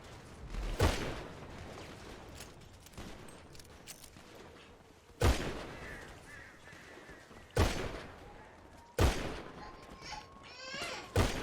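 Sharp gunshots from a GTA online gang fight crack out as four or five separate loud bursts spread over several seconds, with low game background noise and brief effects between them.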